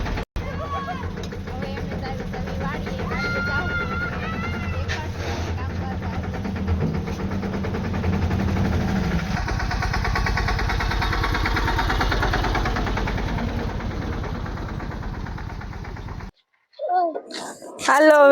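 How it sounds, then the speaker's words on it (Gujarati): A farm tractor drives out to a field where onions are being worked, its engine chugging steadily at a medium pitch for a long stretch, with people and someone talking over it, before a short pause and a few louder noises. "એના પપ્પા ટ્રેક્ટર હાકે છે"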